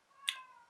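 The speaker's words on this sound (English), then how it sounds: "You may hear my cat Corey meowing in the background." A pet cat named Corey meows once, short and faint, in the background of a quiet room late at night, with a brief tonal cry rising out of near-silence.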